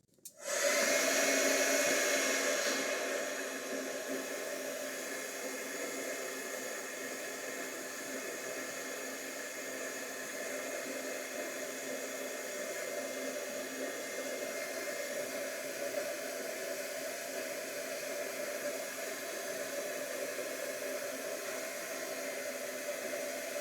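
A hair dryer blows on wet collage paper, starting with a loud burst and then settling into a steady, even whoosh that runs alone for over twenty seconds.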